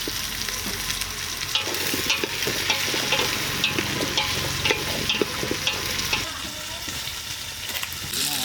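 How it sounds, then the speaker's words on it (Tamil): Onions sautéing in oil in a pan for a fish curry, a loud continuous sizzle with the scrape and clatter of stirring throughout, close up, with no voice clearly heard. "வெங்காயம் வதக்கி எடுப்போம்"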